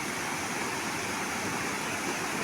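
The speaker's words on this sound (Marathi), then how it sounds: "इकडून वरतून नदी आलेली आहे" A monsoon river pours down from higher ground, giving a steady, loud broadband rush of water that fills the whole moment without a break and carries no voices.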